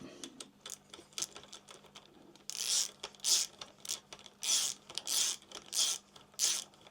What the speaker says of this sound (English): And put your bolt in and do her up.